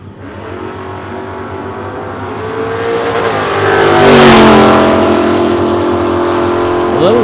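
A 1979 Mustang with a 5-liter engine and a 1967 Nova with a 327 race side by side on a drag strip, their loud engines roaring steadily and swelling as they pass close, with revving pitch sweeps.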